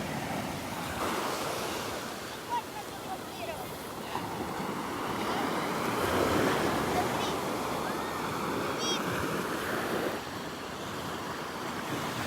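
Small waves wash steadily onto a beach in a continuous soft rush, with light wind noise over the microphone.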